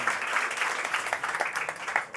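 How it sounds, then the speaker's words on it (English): Sustained audience applause for panelists at a climate action food summit in London, steady dense clapping from a crowd throughout, fairly loud and without talk. "Keep the round of applause going."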